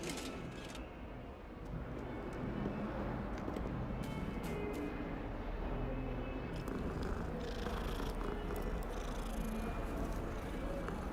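A cat in the video game Hogwarts Legacy purrs as a low, steady rumble running the whole stretch under faint background game sound.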